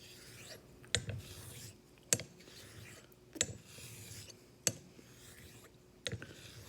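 Swedish Jernbolaget straight razor honed on a whetstone, a soft rhythmic rubbing of repeated passes with a sharp click or tap at each stroke reversal, about every second and a quarter, close and quiet.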